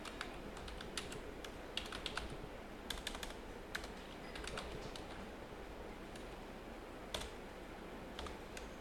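Rapid keyboard typing while code is entered on a computer keyboard, with irregular bursts of clicking keys, close and fairly quiet over a steady low background hum, with no voices.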